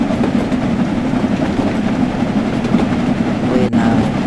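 A long passenger train in Train Sim World 5 runs along the line near Crewe with a loud, steady rumble and rhythmic wheel clatter that continues throughout.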